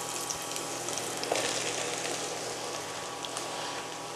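Mushrooms and garlic fry in hot oil, giving a steady close sizzle with faint crackles throughout and no voices.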